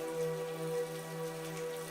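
Steady rain falls on a city street in New York, a soft even patter with no breaks, continuous and unhurried across the short stretch.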